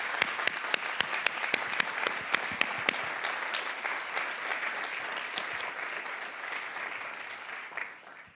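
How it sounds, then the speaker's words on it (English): An audience at a regional medical center's annual corporators meeting claps warmly, with a few sharp distinct claps at the start blending into sustained, even applause that slowly fades. "give her a warm round of applause"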